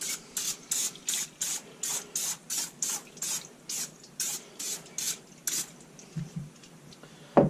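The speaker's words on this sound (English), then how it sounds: "I'm just going to spray it down real quick." Short hissing bursts of cooking oil spray hit a homemade 3D target mold, about fifteen quick, evenly spaced sprays in a row, close and clear, followed by a few faint handling knocks.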